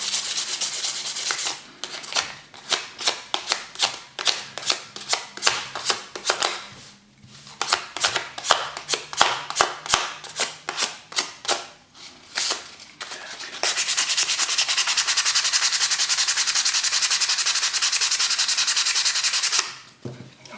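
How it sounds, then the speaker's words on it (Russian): Edges of a small 3D-printed model are sanded by hand in rapid rhythmic rasping strokes, close and fairly loud, then a long continuous abrasive scrub near the end, with no voices. "шлифовать, чтобы они были более скругленные."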